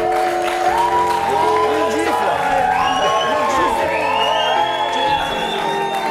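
A studio audience on a French television variety show cheers, whoops and applauds continuously, a dense crowd roar with shouts and voices mixed throughout.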